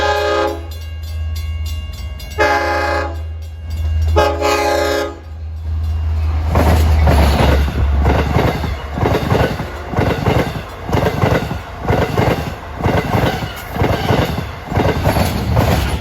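A Long Island Rail Road Montauk Branch train sounds several long horn blasts as it nears a gated crossing at Brentwood Road. It then rumbles past close by with a heavy rhythmic clatter of wheels over the rails.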